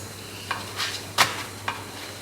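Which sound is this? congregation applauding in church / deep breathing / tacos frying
tacos frying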